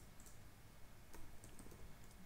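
Computer keyboard typing while code is entered for a React progressive web app, a few soft, quiet key clicks scattered over a steady low background hum, with no talking.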